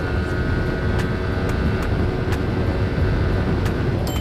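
A Yamaha R15 V3 motorcycle runs at steady high speed, a loud continuous engine drone with wind roar close to the recorder, no voices.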